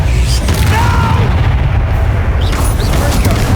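Bombarda spell explosion in Hogwarts Legacy, a loud, dense booming blast with crackling debris that fills the clip up close.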